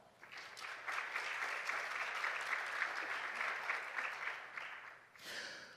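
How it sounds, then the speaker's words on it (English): An audience gives panelists at an affordable housing discussion a round of applause: steady, dense clapping for about five seconds, fairly distant, then fading out. "Please give our panelists a round of applause."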